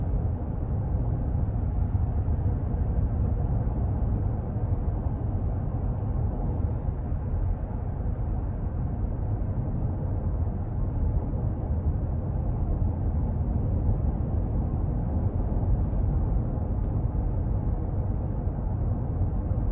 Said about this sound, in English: under this light throttle, it's really just a slow rumble